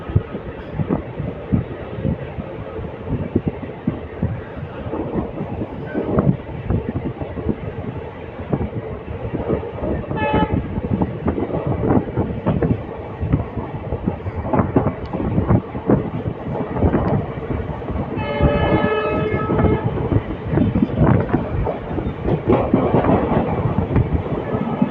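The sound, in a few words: Hubballi Express train running, horn and clickety-clack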